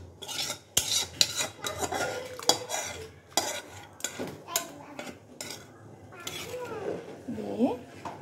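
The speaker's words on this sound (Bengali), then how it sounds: "দিয়ে নেড়ে দিচ্ছি এবং ঢেকে দিব যতক্ষণ না পর্যন্ত আমার পছন্দ মতো খিচুড়ি রান্না হয়ে যাচ্ছে" Chicken khichuri being stirred in a cooking pot, with a spoon scraping and knocking against the pot in repeated close strokes and a wet, thick rasp from the rice.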